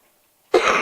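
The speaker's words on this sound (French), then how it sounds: "j'arrête pas de tousser." A single short, sharp cough from a French-speaking woman bursts out abruptly after a moment of silence, close and fairly loud.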